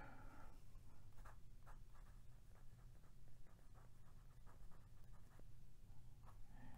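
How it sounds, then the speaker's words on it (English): A Pilot Custom 74 fountain pen with a medium nib scratches steadily across paper, soft and close, with short strokes and pauses as words are written, alone in a quiet room. "I was about to write Benjamin Franklin, but it's actually Alexander Hamilton"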